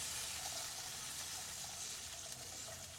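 Water poured into a hot pan after frying, while cooking a dish of lau greens with crab, shrimp and chana; a steady, moderately quiet rushing pour runs throughout with no talking.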